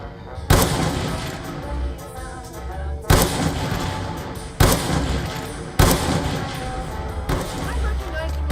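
Heavy gunfire in Call of Duty Black Ops 2 Zombies lands as four loud, booming shots spaced a couple of seconds apart, each trailing into a rumbling decay over a low background drone.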